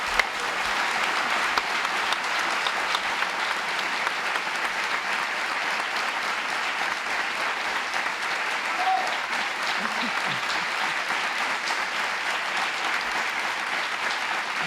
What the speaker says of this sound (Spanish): Este aplauso es para vosotros.